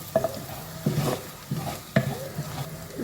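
A spoon stirs thick masala with catfish in a sizzling pan, a few scraping strokes at a steady pace over a low frying hiss.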